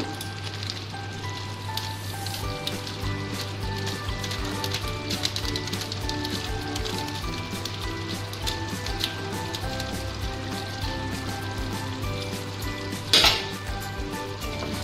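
Chicken kosha frying in an uncovered pot with chicken curry masala sprinkled in, a dense, steady sizzle with light utensil clinks throughout and a sharp scrape near the end; no speech.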